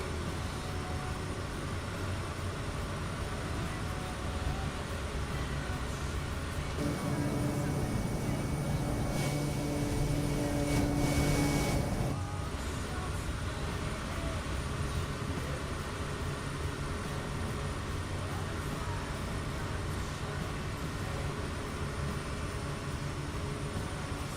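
An aircraft engine drones steadily in a flight simulator game over the Alps, a continuous broadband roar with a brief louder, brighter swell in the middle.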